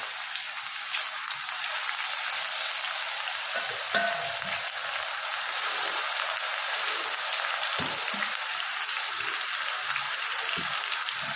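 Chopped onion and green garlic sizzle steadily in hot oil in a pan, a dense continuous hiss with occasional faint stirring taps, close and unbroken with no talking.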